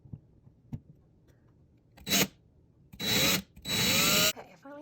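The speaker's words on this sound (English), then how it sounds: "Gotta drill a new hole here." A power drill bores a new mounting hole for a doorbell chime, two short whirring bursts followed by a longer one, close and loud, after a few quiet taps.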